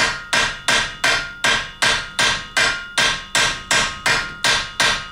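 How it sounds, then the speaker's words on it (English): Hammer peening over metal on a shovel handle: twelve sharp, evenly spaced blows ring out in a steady rhythm, close and loud with no talking. "So if you take your time and you peen this over correctly"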